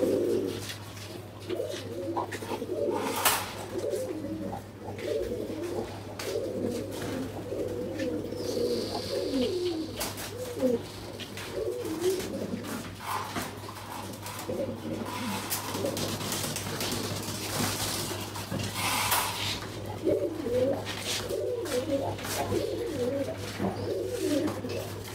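Pigeons in a loft coo steadily in a low, overlapping chorus, with several birds calling close by throughout and occasional higher chirps above the murmur, while a constant low hum runs underneath.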